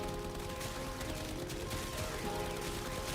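Continuous gunfire at summoned enemies in the sci-fi shooter Warframe, a dense unbroken stream of rapid shots over a steady tonal hum, loud and close, no speech.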